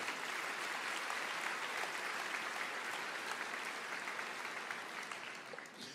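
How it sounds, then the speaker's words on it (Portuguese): A church congregation applauds in a dense, continuous wash of clapping that holds steady for several seconds and then starts to fade slightly at the end. "Dá uma salva de palmas aí"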